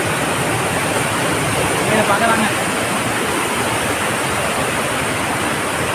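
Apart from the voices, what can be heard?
Oliyappara waterfall flowing, Anaikatti hills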